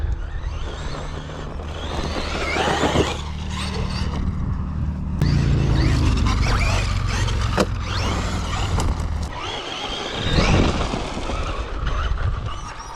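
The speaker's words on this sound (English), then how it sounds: "This ESC is a lot more responsive than the stock one, the stock VXL 4S." A Traxxas Maxx V2 RC car with an upgraded ESC, a steel spur gear and voltage turned up, whining as it accelerates and drives, with shifting motor pitch, gear rattle and surges in loudness over about thirteen seconds.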